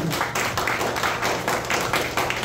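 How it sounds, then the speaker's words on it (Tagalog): A church congregation claps during a Filipino sermon, with many hands striking together in a rhythmic, pulsing pattern at moderate volume and close range. "Isa pang palakpak para sa Panginoon"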